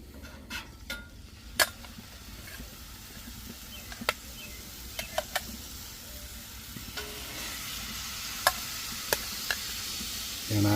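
Quarter-pound burgers sizzle on a Blackstone griddle, a steady close frying hiss with scattered sharp pops and crackles and a faint clink of a spatula near the end.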